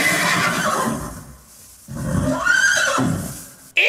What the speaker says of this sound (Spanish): ¡Ese es un burro!